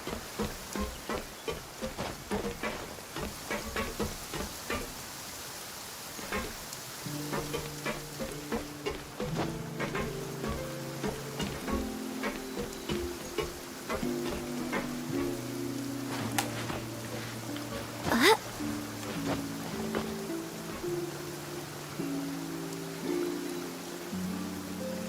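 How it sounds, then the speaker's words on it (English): Rain falls in the video game Genshin Impact, a steady crackling hiss of drops that sounds almost like sizzling, running continuously under a gentle melodic music track with sharp clicks now and then. "If this rain keeps up, my fur will be dripping wet."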